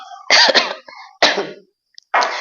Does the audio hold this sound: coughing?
yes